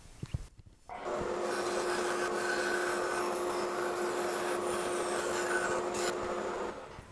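Steady, continuous sawing through thick wood as a toy wheel is roughly cut out just beyond the marked line, after a few faint knocks at the start; the rasping cut runs loud and even for about six seconds, then stops.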